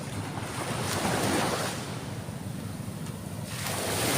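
Sea waves wash continuously onto the shore, with steady surf and wind noise, close and fairly loud, swelling and easing with no talk.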